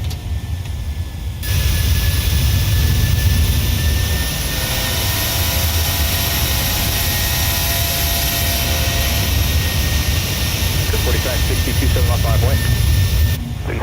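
PMDG jet airliner climbing out in Microsoft Flight Simulator, with a steady loud engine roar and a high whine holding throughout, and a brief quieter gap at the start and end.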